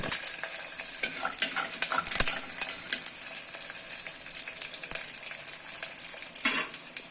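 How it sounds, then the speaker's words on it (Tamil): Chopped garlic sizzles in hot oil as it is stirred in a pan for a Tamil mochai kulambu. The frying hiss is steady and close, with scraping and clinks of a utensil against the pan. "கட் பண்ண பூண்டை இதோடு ஆட் பண்ணிக்கிறேன்."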